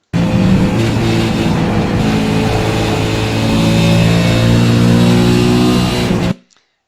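A race car engine at Bathurst cresting the hill on Mount Panorama, a loud, close, sustained drone at steady revs from an in-car position that cuts off abruptly at the end.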